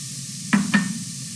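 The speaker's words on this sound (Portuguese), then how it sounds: "Eles vão começar a cozinhar, vai soltar aquele monte de água, você continua cozinhando até ele secar." Mushrooms and garlic fry in a pan with a soft, steady sizzle, broken by two quick utensil scrapes or stirs close by.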